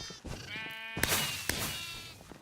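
Sheep in the Minecraft Mineplex Sheep Quest game bleat in repeated wavering calls, loud and close, with clicks and game sounds mixed in.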